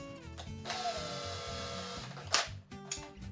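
An electric drill spinning a bit in a Telecaster guitar body, a steady whirring motor tone with short starts and stops and a couple of sharp bit-catching clicks, heard close and alone.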